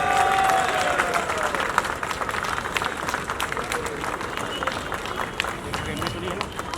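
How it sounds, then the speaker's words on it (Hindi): Audience applause at an award ceremony honouring Rohit Shetty, a dense wash of clapping from a crowd that stays steady and fairly loud throughout, with a voice speaking over it near the start. "हम जोरदार तालियों के साथ रोहित साहब का इस्तकबाल करेंगे"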